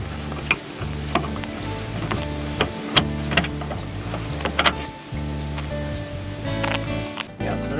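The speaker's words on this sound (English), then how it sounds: "we're just going to use a screwdriver and pop that off" A screwdriver pries the window winder clip off a door in a 40 series Land Cruiser, giving a run of close plastic clicks, snaps and scrapes over a steady low mechanical hum.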